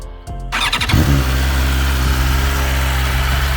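A 2022 BMW S 1000 RR with a stock exhaust and Akrapovic canister fires up after a brief starter whir, then settles into a loud, steady close-up idle.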